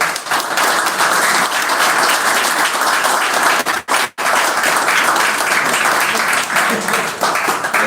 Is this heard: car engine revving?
no